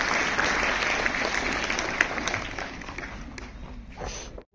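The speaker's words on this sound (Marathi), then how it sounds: "जोरदार टाळ्या झाल्या पाहिजे" Dense, steady clapping from a school audience at a Gita Jayanti lecture fills the clip, sustained and lively, then tapers and stops abruptly at the end.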